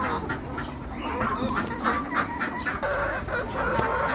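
A flock of laying hens clucks continuously nearby in a farmyard, with overlapping low calls and occasional sharper squawks.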